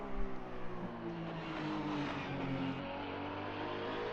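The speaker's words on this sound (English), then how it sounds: "That Porsche being such a good sounding car coming out of these corners." In a sim racing game, a Porsche race car's engine accelerates out of corners. Its loud, sustained roar climbs through the revs with gear changes and no talking.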